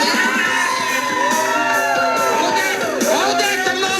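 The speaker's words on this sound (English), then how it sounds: "the crowd cheering them on, that's so refreshing" A crowd cheers and whoops loudly and continuously as bartenders work, shouts and yells overlapping under busy, bright music.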